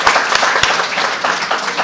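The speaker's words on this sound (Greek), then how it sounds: "ένα χειροκρότημα" Brief round of audience applause for a company at an art presentation, close, fairly loud clapping with several sharp individual claps standing out over a quick patter of hands.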